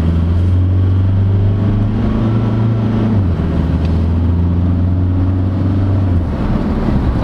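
A 2022 Maxus T60 pickup accelerating, its engine drone steady and close with a low hum that climbs and shifts pitch as it gains speed, continuous with no talk.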